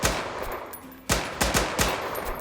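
Rapid gunfire from the game War Tycoon, a burst of sharp shots followed by a few spaced, punchy reports with a bright metallic hit ping; no talking.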